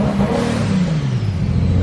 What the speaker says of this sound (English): he's gonna still try to see maybe revving and giving a little bit of load will clear it up